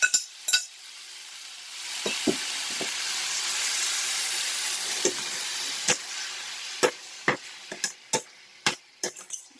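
Chicken seasoned and browning in a hot pan for homemade chicken alfredo, a steady close sizzle swelling and easing, broken by sharp clicks and scrapes of stirring that grow more frequent toward the end.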